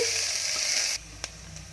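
Chopped onions sizzle loudly in a hot pan for about a second, then the frying abruptly drops to a quieter hiss with a single soft clink, as for a spiced moong dal pongal.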